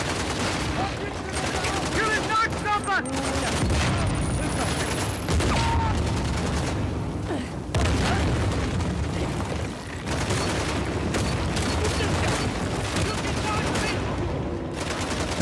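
Dense gunfire from a firefight in the video game Uncharted: The Lost Legacy, with rapid bursts, booming blasts and overlapping shots that continue loudly throughout, mixed with game voices.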